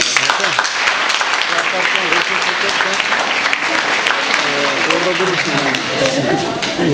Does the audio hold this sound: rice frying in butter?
no